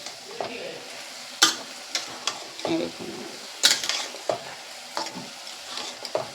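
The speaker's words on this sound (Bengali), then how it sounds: "এই কষানো মশলার মধ্যে কিন্তু মোচাটাকে দিয়ে দিতে হবে।" Boiled banana flower tossed into cooked spice paste and fried, a soft sizzle punctuated by repeated scraping and clattering stirs of a spatula in the pan, close and fairly quiet.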